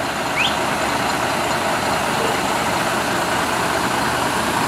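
An old camper's engine runs steadily at idle, a continuous low hum with a constant hiss and no change in pace, heard alone without voices.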